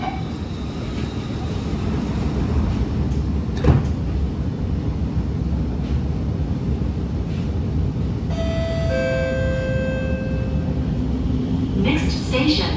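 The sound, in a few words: SMRT R151 train doors closing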